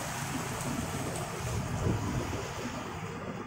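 Rain falling outdoors, a continuous broadband hiss mixed with gusty wind noise on the microphone, moderately loud and steady with no voices.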